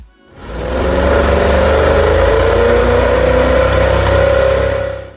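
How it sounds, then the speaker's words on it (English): A Ferrari F40 engine fires up and runs at a steady, loud rumble with a rising tone, close by, then fades slightly at the end. "finally you get to hear the engine for the first time"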